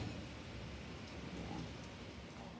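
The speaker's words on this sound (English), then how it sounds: "Yeah, you hear that thunder?" Rain pours in a dense, steady hiss, with soft low rumbles that may be distant thunder, and no voices.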